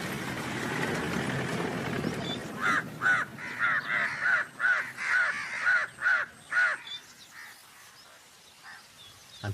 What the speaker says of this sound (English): I can hear the sounds of crows and tree pies in there